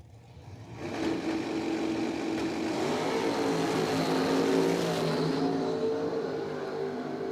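At a dragway, a Nova and a dragster in a street small-tire drag race roar off after a brief quiet moment, their engines swelling into a sustained, fairly distant high-revving snarl that fades slightly toward the end.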